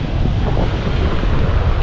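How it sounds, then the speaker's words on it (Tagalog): Strong wind buffets the microphone on a beach during a storm, with rough ocean waves and surf rumbling loudly underneath in a brief, continuous roar. "may alon po ngayon, malakas din ang agos"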